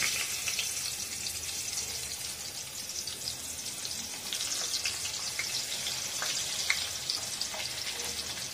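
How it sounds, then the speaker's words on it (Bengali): Potatoes fry in very hot oil in a home kitchen, giving a steady, dense sizzle with crackling pops throughout, close and fairly loud with no voices. "তো বন্ধুরা, আলু ভাজা চলছে।"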